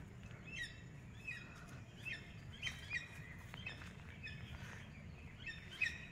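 Birds call in a garden, a scatter of short, thin chirps and whistles at moderate distance over a quiet low background hum, coming in several irregular bursts.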